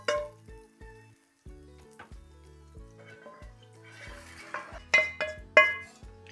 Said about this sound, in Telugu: ఇప్పుడు ఈ తాలింపుని ఇందులో యాడ్ చేసేస్తున్నాను